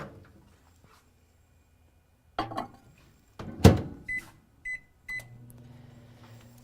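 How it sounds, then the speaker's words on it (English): A microwave oven starts with a clunk and a few short beeps, then settles into a low, steady hum while melting an ingredient for 20 seconds. "I'm just going to zap it in the microwave for 20 seconds."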